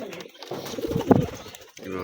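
Pigeons coo close by in a home pigeon loft, giving low, throaty, rolling calls, with a faint voice murmuring in the background.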